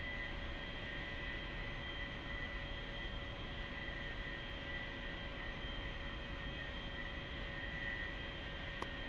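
Distant steady jet engine drone of an A-4E Skyhawk spooling for takeoff in a flight simulator, a faint constant whine with tonal hum and no voices.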